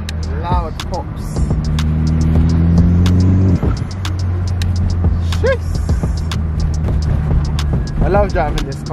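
Vauxhall VXR exhaust pops and crackles while driving, sharp bursts scattered over a steady engine drone inside the car, with a few birdlike chirps and a voice briefly heard.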